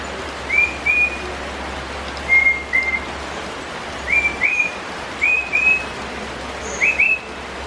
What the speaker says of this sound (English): This will be the sound of that little bird.